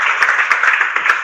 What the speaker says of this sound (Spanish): Le vamos a dar un aplauso, por favor, a Román.